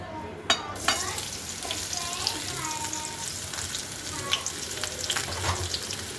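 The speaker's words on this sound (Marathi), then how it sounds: "त्याच कढईमध्ये आपण थोडं तेल ओतायचं आहे आणि त्यामध्ये आपण कांदा परतून घ्यायचा" Steady oil sizzle and crackle from onion frying in a kadhai, with a couple of sharp clatters near the start and light stirring scrapes throughout.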